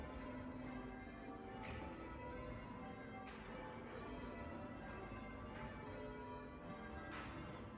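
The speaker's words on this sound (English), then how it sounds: "the bells would have been heard throughout the whole village" Church bells at an ancient Welsh village church ring in a continuous, dense peal, overlapping strikes sounding steadily and fairly loud with no talking.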